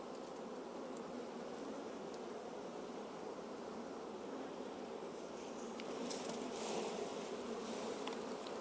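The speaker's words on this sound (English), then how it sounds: "Man, look at all those bees." Honey bees swarm in a dense, steady buzz at an open hive during hive splitting, close and continuous throughout with no talk.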